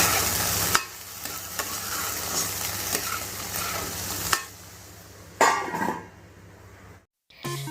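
Vegetables cooking in a pan with salt added, a steady sizzle with scraping stirs and a few metallic knocks, fading briefly near the end before resuming.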